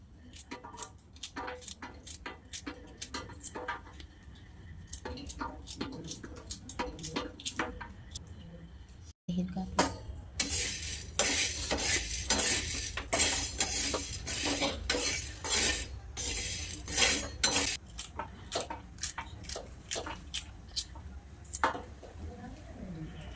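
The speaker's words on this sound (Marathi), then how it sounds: "आपण भिंडी कापून घेऊया" A knife chops okra for a Navratri fasting dish, giving a long series of quick, close, sharp taps on a cutting board, at times louder and denser, with occasional talk over it.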